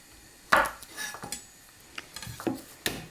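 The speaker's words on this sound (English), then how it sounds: "Just chop off the ends." A knife trims the ends off garlic cloves on a cutting board, giving a few sharp, close taps and knocks spaced irregularly over near silence.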